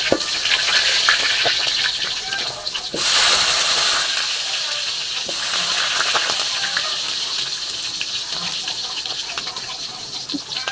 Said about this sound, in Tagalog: Prito natin yung ating patatas